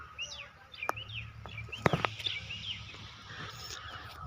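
Pigeons chirping and calling in a farm field, with a few sharp clicks or flaps near the middle over a quiet rural background.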